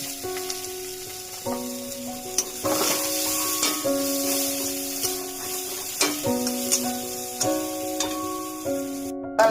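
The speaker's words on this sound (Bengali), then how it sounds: "এবার কুচনো পেঁয়াজটা ছেড়ে দিলাম" Chopped onion with bay leaf sizzles in hot oil in a pan, a steady frying hiss punctuated by occasional stirring scrapes, while sustained musical tones play over it.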